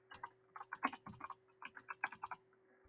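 Close, crisp keystrokes on a computer keyboard, about twenty quick clicks in uneven bursts with short pauses, as a sheet name is typed into a spreadsheet.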